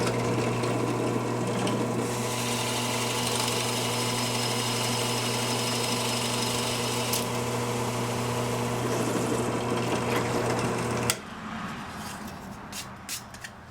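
A drill boring a 7/8 inch sound hole through the top piece of wood for a music stick, a steady loud whirring drone that runs for about eleven seconds before cutting off, followed by quieter handling noises.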